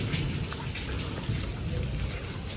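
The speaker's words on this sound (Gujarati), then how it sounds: "બહુ મસ્ત વરસાદ આવે છે જુઓ" Heavy monsoon rain falls in Vadnagar, a soft steady wash of drops and trickling water, moderately faint and continuous with no voices.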